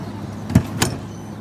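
A camper door shuts with two quick clunks, a sharp thud followed by a lighter latch click, close by against a low background hum, with no voices.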